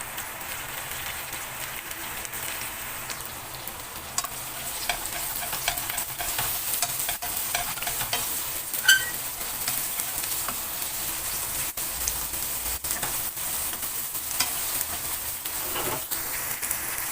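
Onion sizzling in a hot pan for a Filipino pineapple chicken dish, a steady soft crackle of frying with occasional stirring scrapes, close and continuous without talk.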